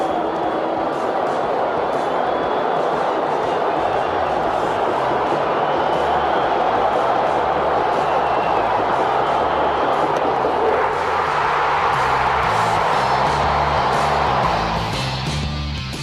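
A large, roaring stadium crowd at the final game of the 1980 World Series, a steady loud wash of cheering that swells toward the end, with a radio announcer's voice underneath.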